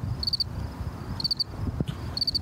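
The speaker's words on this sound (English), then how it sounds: "Chirping crickets." Crickets chirp in quick repeated bursts in a Winnipeg neighbourhood, a high trilling pulse coming back every second or so over a soft low rumble.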